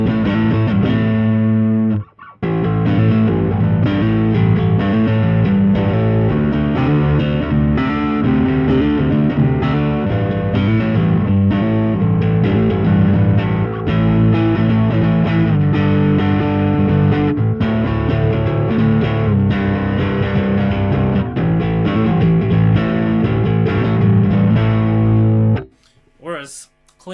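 Bass guitar pushed through a Kokko overdrive pedal at full gain with the treble raised, playing loud, driving riffs with steady rhythm and a brief gap near the start, ending abruptly.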